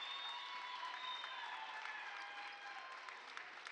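Sustained applause and crowd noise fill a women's college basketball gym, Case Western Reserve versus Carnegie Mellon, as seniors exit to a standing ovation; steady, dense clapping throughout with a brief whistle-like tone.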